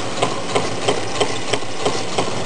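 A candle-powered Stirling engine built from Meccano, with a fiberglass displacer and a sardine-tin chamber, runs steadily, giving regular soft knocks about three times a second over a continuous whirring hiss, close and alone.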